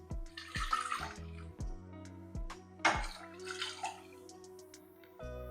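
Water is poured into a cooking pot of white lobia (black-eyed peas) to boil them. The sound is a quiet, splashy trickle in a few short bursts with brief pauses between.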